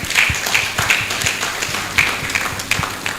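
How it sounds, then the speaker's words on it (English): Scattered audience clapping at a Rivers State health sector annual review meeting, uneven and fairly close, with brief speech around it. "Clap now."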